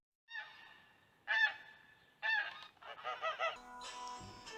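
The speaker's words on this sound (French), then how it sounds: "Passent les oies." Geese honk in a series of loud, nasal calls, several birds overlapping near the end, with no other sounds around them.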